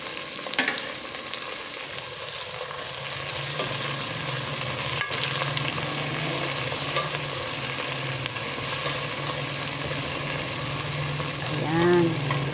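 Chopped tomatoes sizzle and fry steadily in a pan for fish-head sinigang, with a spoon scraping and stirring through the continuous close crackle.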